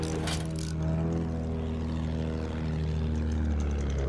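A red propeller plane drones overhead in a video game, its engine giving a loud, steady buzzing hum that holds for several seconds with a slight rise and fall.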